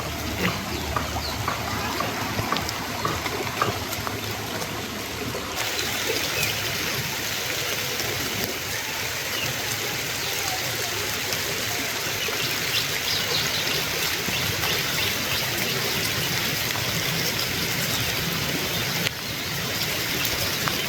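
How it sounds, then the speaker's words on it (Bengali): Rainwater rushes and gushes steadily throughout beside a house, a continuous full stream close by, like runoff flowing in a swollen channel. "বাড়ির কাছে মনে হইতেছে যে নদী বয়ে যাইতেছে বাড়ির নিচেই"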